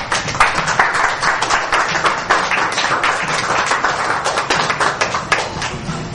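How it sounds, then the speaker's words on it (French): Loud, close applause from an audience at the official release of an album, with sharp individual claps in a dense, steady wash that holds for the whole stretch with no talking over it. "que je vous demande d'applaudir très fort"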